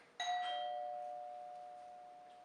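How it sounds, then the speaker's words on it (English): Doorbell rings once indoors in a kitchen, a single clear electronic chime that strikes sharply and then rings out slowly, fading over a couple of seconds against quiet room background. "The doorbell?"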